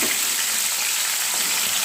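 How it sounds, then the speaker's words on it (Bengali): Pomfret fish frying in hot oil in a pan, a loud, continuous sizzle that stays steady and close throughout with no talking. "পিঠেও ভালো করে ভাজা করে নিচ্ছি। মাছগুলো ভাজা হয়ে গেছে"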